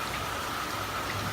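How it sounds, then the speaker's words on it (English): Heavy pouring rain from Cyclone Debbie in southeast Queensland, a dense, even hiss of rainfall, steady and close throughout with no voices. "As you can hear, the rain is just pouring."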